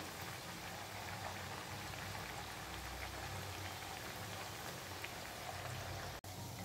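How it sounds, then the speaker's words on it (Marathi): Chakli, spiral rice-flour snacks, frying in very hot oil, give a steady dense sizzle and crackle like light rain, continuous and close throughout, ending with a brief cutoff near the end. "तेल छान असं कडकडीत तापलेलं आहे आणि या चकल्या तेलामध्ये सोडल्या की गॅस हा बारीक करायचा आहे"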